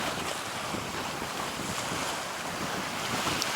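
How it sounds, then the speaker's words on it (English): Steady wind rushes over the microphone while waves wash and hiss against a moving Rob Roy 23 sailboat on Penobscot Bay, continuous and fairly loud, with no one speaking. "Yep, it's windy."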